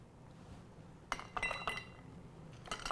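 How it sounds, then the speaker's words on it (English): Ice clinks and clatters into a glass while a Christmas cocktail with Jameson Irish whiskey is made: a few sharp glassy knocks arrive in a short burst midway, then a couple more near the end, fairly close. "So now we're going to add our ice."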